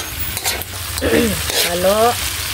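Vegetable stalks fry in a pan with a steady, close sizzle and stirring scrapes, while a voice talks over the cooking.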